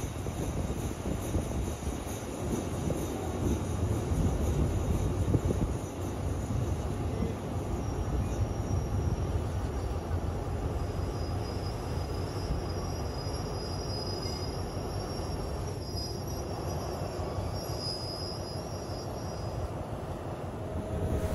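A train pulls out of Sap Muang station on a double-track line, wheels rumbling and squealing steadily on the rails with a continuous loud roar that carries through the whole stretch.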